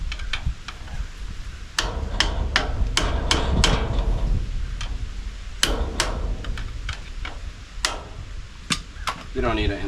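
A hammer taps a stuck part loose in a series of sharp, close knocks, irregularly spaced, with quieter rustling and faint speech between strikes.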